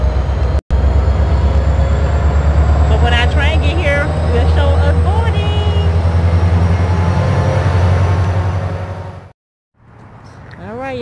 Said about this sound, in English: I hear that train coming.